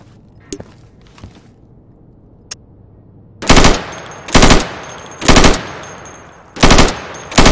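Five loud bursts of automatic gunfire from a light machine gun in the video game Insurgency, shooting through plywood targets, follow a few faint clicks and taps, each burst sharp and close.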